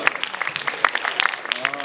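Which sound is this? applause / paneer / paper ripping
applause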